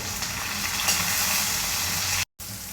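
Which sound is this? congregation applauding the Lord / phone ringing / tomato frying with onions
tomato frying with onions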